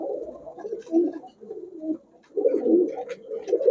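A pair of Giribaz pigeons coos close by in soft, throaty, repeated bursts, with a brief pause between phrases.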